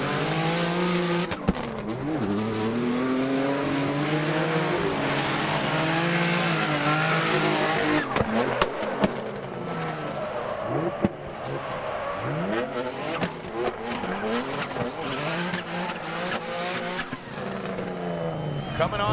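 Ken Gushi's drift car ripping into an inside clip at a Salt Lake City, Utah competition, a loud screaming engine swinging between revs with tire squeal and skidding, under an excited announcer's commentary.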